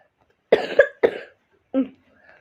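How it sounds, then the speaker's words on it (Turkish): A few harsh coughs in quick succession, close and loud, followed by a softer throat sound after a short pause. "Böyle öksürebilirim arasında öksürebilirim, tıksırabilirim"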